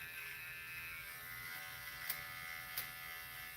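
Electric hair trimmer buzzing steadily as it cuts hair during a barber's line-up, a continuous high whine with a couple of brief sharper clicks, close and alone without talk.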